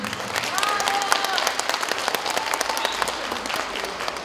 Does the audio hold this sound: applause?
yes